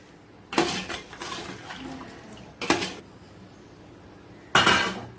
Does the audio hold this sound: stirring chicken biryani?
yes